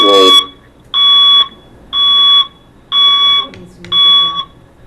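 A fire alarm sounds off in a repeating pattern of four loud, steady electronic tones, each about half a second long, during a remote public building commission meeting, with brief speech at the start.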